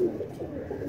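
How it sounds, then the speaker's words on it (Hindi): A Green Neck home-breed pigeon in a loft gives a soft, low coo, heard close but faint for about a second with no voices over it. "उस्ताद अल्लाह रखा कबूतर की संभाल करते हुए पट्ठे की, ग्रीन नेक वाले पेयर का पट्ठा।"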